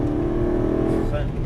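An Aston Martin V8 on track at Dreux pulls hard at full throttle, a steady close-up engine drone that holds loud and even throughout, with an instructor's voice speaking over it.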